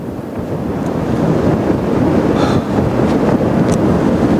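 Wind buffets the microphone in a steady, loud roar at a beach during a wedding, with ocean surf blended into the wash and no voices.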